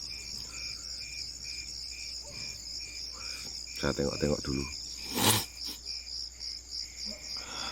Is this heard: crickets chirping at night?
yes